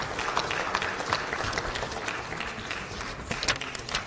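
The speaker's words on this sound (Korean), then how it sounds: "의원님들 만장일치 박수로 추인해 주시면 고맙겠습니다" Lawmakers at a party caucus meeting applaud to approve an appointment, a steady patter of clapping across the room for a few seconds at moderate level with no talk over it.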